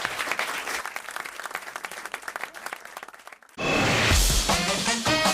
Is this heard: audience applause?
yes